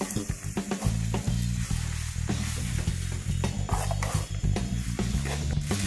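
Macaroni and cheese mixture stirred in a sizzling pan, steady loud frying hiss with repeated scraping and clacking of the utensil against the pan, close up and continuous throughout.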